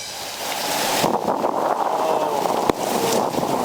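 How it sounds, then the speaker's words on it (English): A hurricane wind gust rushes and roars against boarded-up windows and blinds indoors, a steady loud blustery noise with a sharp knock partway through. "A wind gust just blew my blinds open."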